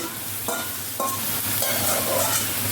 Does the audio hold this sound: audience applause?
no